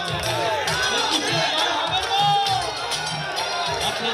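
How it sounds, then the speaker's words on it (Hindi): A large crowd at Mamata Banerjee's Nandigram rally in West Bengal, a loud mass of voices singing and cheering along with amplified music and a rhythmic beat, all close and continuous. "ऐसी झूमती गाती लोगों की भीड़"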